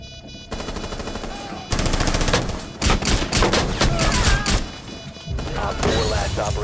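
Rapid automatic gunfire in Rainbow Six Siege rattles in dense bursts with crashing impacts, loud and close, separated by short pauses.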